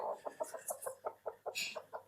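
A country hen clucks in a steady run of short, close clucks, with a brief higher squawk partway through.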